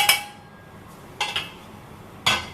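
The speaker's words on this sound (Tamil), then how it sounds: "கடாய் சூடானோன்னே அதில் முதல்ல கடலை மாவை போட்டு நல்லா வறுத்துக்கலாம்." Three sharp metallic clinks ring out from a ladle knocking a hot kadai as gram flour goes in to roast for ghee Mysore pak; the clinks are brief, close and spaced about a second apart.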